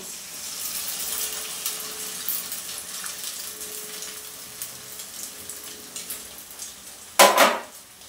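An egg sizzles in a pan of oil and lightly browned onions, with a steady crackle and light utensil clinks, then a brief louder hiss near the end.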